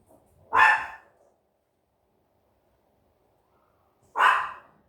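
A small dachshund next door barks twice, a few seconds apart, each bark short and sharp with quiet in between.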